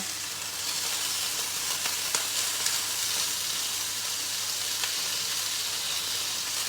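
Chicken breast searing in a hot pan, a loud, steady, close sizzle that holds unbroken throughout with a few faint clicks.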